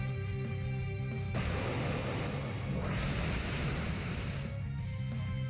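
Waterfall move effect from the Pokemon X video game: a loud, sustained rushing wash of water noise that swells in after a second and runs over the music, then fades near the end.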